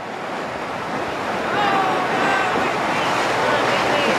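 Ocean surf and tide wash steadily around St Michael's Mount, a broad continuous roar of waves with wind noise and no voices.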